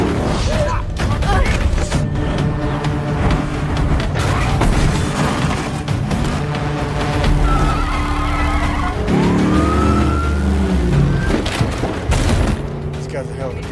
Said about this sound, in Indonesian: Kini Will dengan hebatnya terus membawa ambulan tersebut hingga masuk ke dalam pusat konveksi dan dengan lihai menghindari dari kejaran polisi yang tak henti-henti